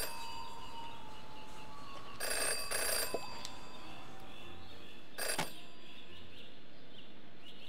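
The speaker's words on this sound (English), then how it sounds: "Jenny had learned never to ignore a ringing phone." A telephone rings in the Jenny LeClue video game: two short bursts of bright ringing a few seconds apart, heard clearly over a quiet, low ambient background.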